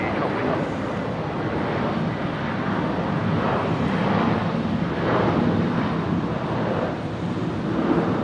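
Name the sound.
Airbus A220 airplane at Brisbane airport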